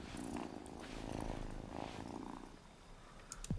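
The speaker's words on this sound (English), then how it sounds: "Oh, such a good cat." A house cat purrs steadily in the video game Wylde Flowers, a soft, close rumble holding through most of the moment before a brief rising chirp near the end.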